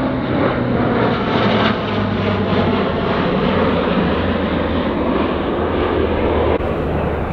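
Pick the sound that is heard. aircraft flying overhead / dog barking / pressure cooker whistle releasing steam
aircraft flying overhead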